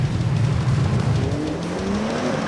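A BMW car slides sideways on a track in a race, its engine droning loudly and steadily with a rising whine as the tyres scrub through the slide.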